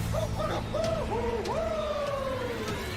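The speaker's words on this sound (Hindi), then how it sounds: "इतना विशाल पंछी।" A giant bird in a Power Rangers Dino Fury episode gives repeated rising and falling coos and hoots over a steady background of music and effects, moderately loud.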